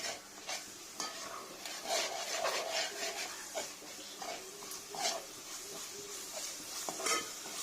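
Ginger-garlic paste being stirred and fried in a pan, with steady close sizzling and repeated scraping stirs throughout, no voices.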